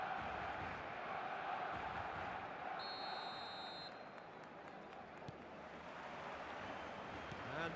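A steady stadium crowd roars and murmurs throughout an eFootball match, broad and continuous with a brief high electronic tone partway through, under faint commentary.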